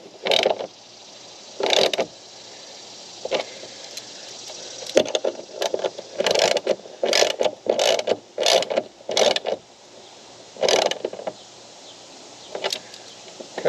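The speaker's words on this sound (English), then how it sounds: "Tighten these down again with your 10mm socket." A 10mm socket on a ratchet tightens the hood strut bolts on a Jeep, giving off repeated short bursts of close mechanical clicking with brief gaps between them.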